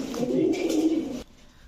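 Pigeons of racer, Budapest and kaldom breeds give a brief low cooing close by, alongside a voice, then fall quiet.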